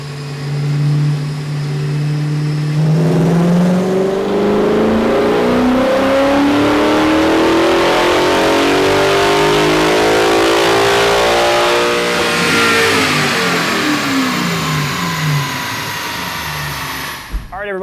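A Gen 2 Coyote V8 swapped into a New Edge Mustang revs hard through a full dyno pull, a loud continuous engine roar rising steadily in pitch for about ten seconds before easing back down.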